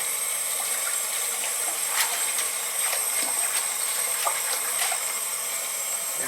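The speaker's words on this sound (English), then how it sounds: "kind of swish it around a little bit." Fresh parsley is swished around in a sink of water with a little cleaner, giving a steady close watery slosh with small splashes and drips, no voices.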